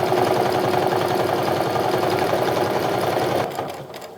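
A sewing machine stitches fabric card pockets for a handmade wallet, a loud, close, rapid mechanical chatter running steadily for several seconds before slowing and stopping near the end.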